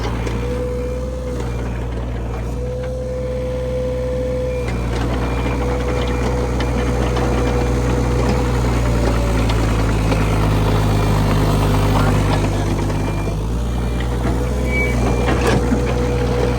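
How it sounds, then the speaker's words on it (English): A Case CX31B mini excavator runs with its tracks spinning, a loud, steady diesel engine drone and hydraulic whine held close for the whole stretch, with the pitch shifting slightly as the load changes and no talking. "If the tracks will spin like that, that means it's in good shape."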